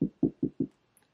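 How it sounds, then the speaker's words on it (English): Four quick knocks on wood, evenly spaced and close up, with a faint small tap after them. "knock on wood"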